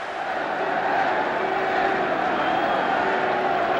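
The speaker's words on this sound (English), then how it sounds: "And just listen to the roar from this crowd as the red jersey appears." A stadium crowd roars at a 1972 Wales versus New Zealand All Blacks rugby union test match. It is a dense, steady wash of voices that holds at an even level throughout.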